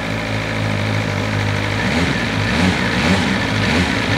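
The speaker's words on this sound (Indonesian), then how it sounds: "Knalpotnya kenceng banget mas bro." BMW M 1000 RR superbike engine running with a loud aftermarket exhaust, a steady close-up drone with low rumbling harmonics that roughen and pulse slightly toward the end.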